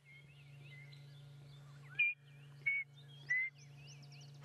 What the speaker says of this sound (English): That was a male chin spot battis, and if we listen, we can hear them calling.